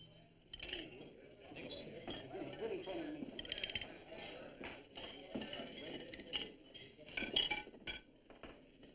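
Dishes, glasses and cutlery clinking in a busy soup kitchen, a steady scatter of sharp light clinks and clatter, rather faint, under overlapping voices and general room chatter.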